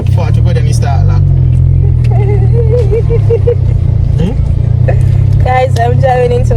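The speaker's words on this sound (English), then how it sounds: "I'm driving into my apartment now" A car driving into an apartment complex, a steady close engine rumble running throughout with a voice talking over it.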